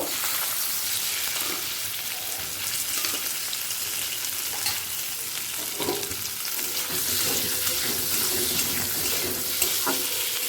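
Boiled potatoes frying in a pan with hot spices, a loud, dense, continuous sizzle and crackle with occasional stirring scrapes, close and without speech.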